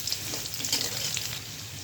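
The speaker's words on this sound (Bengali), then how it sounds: "কিছুটা পেঁয়াজ দিতে হবে তেলে" Onions frying in soybean oil in a pan while cooking a Bengali rohu fish curry with eggplant and potato, a steady close, bright sizzle with faint stirring scrapes and no talk.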